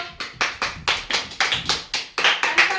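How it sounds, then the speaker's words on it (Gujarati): A group of children at a school celebration clap hands in a steady, evenly spaced rhythm of about a dozen sharp claps, close and fairly loud with no talking. "તાળી પાડો"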